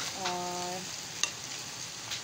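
Okra and minced meat fry in a pan with a faint, steady sizzle and a couple of light utensil clicks as the mix is stirred.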